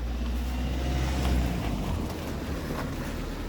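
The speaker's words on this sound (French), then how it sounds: "Là, je vais devoir me pousser parce qu'il y a une voiture derrière moi." A car moving along a road from behind, heard as a steady, fairly loud broadband rumble with wind-like noise that swells slightly and then eases off, with no voices.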